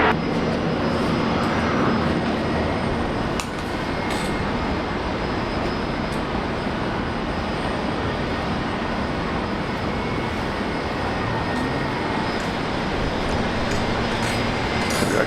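A Korean Air Boeing 787 Dreamliner takes off from runway 01 left at Brisbane Airport, a loud, sustained jet engine roar that fills the whole stretch at steady strength, with no voices.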